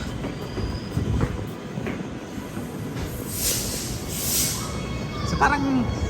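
Train pulling into a station in Australia, a steady rumble with rail noise and a brief wheel squeal near the end, heard under nearby chatter.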